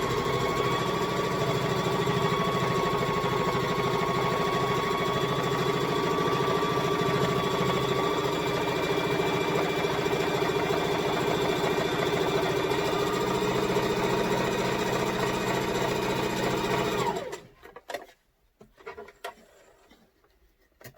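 Home sewing machine running steadily while stitching fabric for masks, a continuous close whirring hum that holds for most of the stretch, then stops abruptly near the end, leaving faint handling noises.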